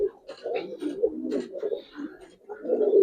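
Giribaz pigeons coo close by in a run of soft, throaty, repeated calls that rise and fall, with a brief murmur of voices in the background.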